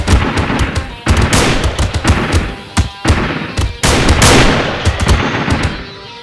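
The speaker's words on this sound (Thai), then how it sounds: "โอ้โหโหดมากยิงมัน เออยิงโป่ง" Gunfire crackles in a chicken video game, with dense rapid bursts and sharp repeated shots, loud and close, breaking off briefly between volleys.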